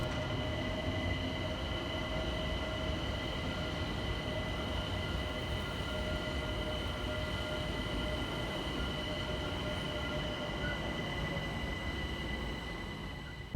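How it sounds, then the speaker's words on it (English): A London Overground electric train pulls into New Cross Gate railway station at a distance, giving a continuous, fairly quiet roar of wheels on track with sustained high metallic squeal tones and no voices. "Whilst arriving in the background for London Overground is 37813215, working the 1638 service from Highbury and Islington through to Crystal Palace."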